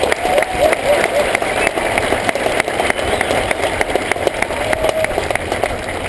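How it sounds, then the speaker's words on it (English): Outdoors at a military retirement parade, a crowd applauds family and friends with a continuous wash of clapping, spread out and moderately loud, with faint voices mixed in. "Let's give them a round of applause."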